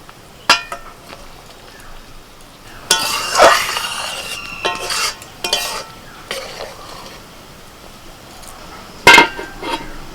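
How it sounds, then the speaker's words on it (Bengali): Fried eggs go into a pan of spiced gravy, bringing a burst of sizzling and stirring clatter midway, then a sharp clink of utensil against the pan near the end, with quieter scrapes in between. "এবার আমি ভাজা ডিম দিয়ে দিচ্ছি"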